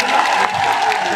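Crowd applause at an election rally in Lahar, Bhind, Madhya Pradesh, welcoming a Bahujan Samaj Party leader: dense, steady clapping throughout with a broad crowd wash and some voice mixed in.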